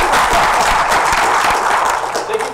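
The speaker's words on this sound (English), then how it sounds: "You clap for the SSA." An audience at a university talk applauds in one steady, dense wash of clapping that fills the hall from start to finish without a break.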